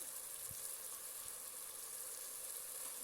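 Tomato paste cooking in a pan with frozen tinda, a faint, steady sizzle and hiss with a couple of soft clinks.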